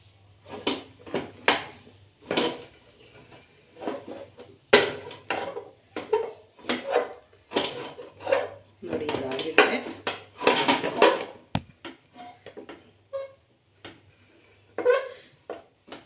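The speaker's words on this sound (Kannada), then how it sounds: "ನಾನಿಲ್ಲಿ ಒಂದೇ ಮುದ್ದೆ ಅಲ್ವಾ ಮಾಡ್ತಾ ಇರೋದು ಹಾಗಾಗಿ ಇಲ್ಲೇ ಕಲಿಸ್ತಾ ಇದ್ದೀನಿ" Ragi mudde, finger-millet dough, being mixed and kneaded in a pot on the stove, with irregular clanks and scrapes of a utensil against metal, close by, and a voice talking between and over them.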